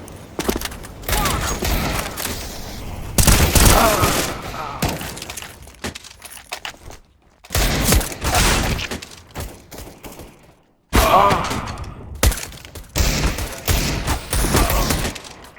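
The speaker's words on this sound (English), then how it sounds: "Throwing a flashbang." CS:GO match: a flashbang bursts among loud crackling gunfire and shattering impacts, arriving in dense bursts separated by short silences, close and harsh, with voices talking over parts of it.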